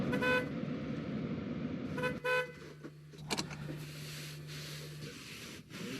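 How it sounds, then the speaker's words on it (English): A car horn sounds in a long steady toot lasting nearly three seconds inside a vehicle, preceded by a short tone and faint interior rustling. "Want to try out the horn?"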